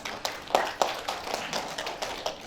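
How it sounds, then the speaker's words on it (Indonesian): Scattered hand claps from a small audience at a business presentation, light and uneven, fairly close, with a few louder individual claps standing out and no talking. "tepuk tangan"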